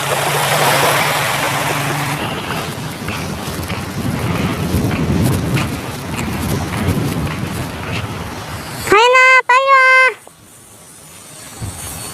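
Sea waves wash steadily at Eulwangni beach under strong wind buffeting, with a loud rising and falling whistle-like squeal cutting in near the end before things quieten.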